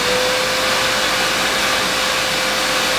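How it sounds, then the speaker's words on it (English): A 2000 watt vacuum cleaner runs through an inverter on battery power, giving a loud, steady broadband roar with a constant motor whine from close by. "we'll now switch on the vacuum cleaner and we'll see what effect a 2000 watt vacuum cleaner has when running through that inverter"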